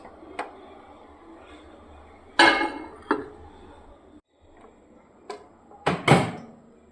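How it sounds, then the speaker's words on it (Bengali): A bowl is set into a microwave oven in a home kitchen, with a few separate knocks, a clink of dishware and the thud of the oven door, loud and close with short gaps of quiet. "এবার আমি মাইক্রো ওভেনে বোলটা ঢুকিয়ে দিচ্ছি"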